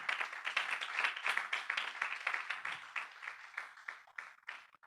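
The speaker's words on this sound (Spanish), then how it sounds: "Dele un aplauso a Dios para siempre." Church congregation clapping after a sermon, a lively, uneven patter of hands with distinct rhythmic bursts, moderately quiet and thinning out toward the end.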